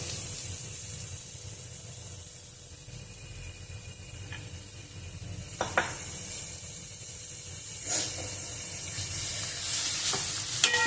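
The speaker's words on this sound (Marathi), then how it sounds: "गूळ पूर्ण मेल्ट होईपर्यंत आपण हे मिश्रण शिजवून घेणार आहोत." A jaggery mixture cooks in a pan while being stirred, with a steady soft hiss and intermittent scraping strokes that grow slightly louder toward the end.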